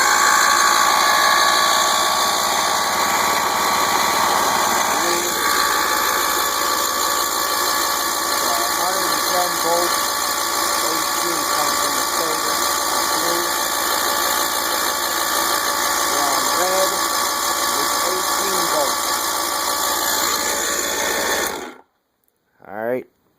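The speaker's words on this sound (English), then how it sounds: "I'm going to turn the starter on real quick" A Mercury 90 outboard motor with a no-spark fault cranks steadily on its electric starter, a continuous close mechanical whir with faint voices under it, cutting off abruptly near the end.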